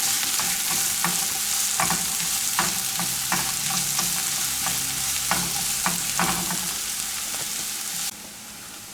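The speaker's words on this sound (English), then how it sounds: "Add 1 finely chopped onion. French onion or red onion," Finely chopped onion frying in a pan for a honey cauliflower Manchurian, giving a steady loud sizzle with scattered clinks and scrapes of stirring throughout, then easing slightly near the end.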